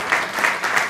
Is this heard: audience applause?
yes